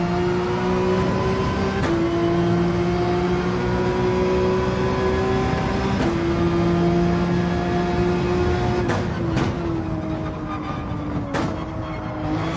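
A race car engine in Gran Turismo 7 drones steadily around the Spa circuit, its whining tone rising and dipping through gear changes, with brief shifts and blips breaking the continuous loud note.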